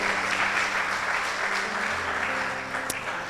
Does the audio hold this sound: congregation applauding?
yes